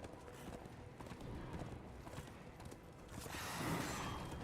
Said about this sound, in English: Riding on a horse.